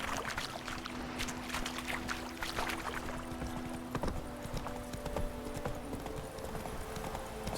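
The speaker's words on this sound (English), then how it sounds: "Horses are back already." Horses clip-clop at a steady walking pace in The Witcher 3 video game, continuous hoofbeats over a soft outdoor ambience, with a faint whinny blending into the background.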